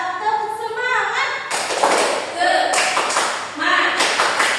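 A school class performs a rhythmic 'tepuk semangat' clapping chant led by their teacher, with bursts of sharp group claps alternating with children's chanted voices in a quick, patterned rhythm close by.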